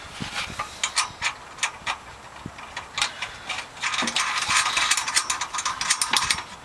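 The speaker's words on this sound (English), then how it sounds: "We'll go ahead and get these nuts down." A hand ratchet tightens nuts during a TUF-1 installation, giving rapid bursts of sharp metallic clicking in quick strokes, close and clear, with no talking.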